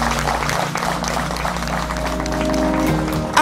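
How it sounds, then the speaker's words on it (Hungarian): Wedding guests at Geréby Kúria applaud the newly married couple in sustained, even clapping, heard close and fairly loud over steady background music. "Szerintem egy nagy tapsot megérdemelnek."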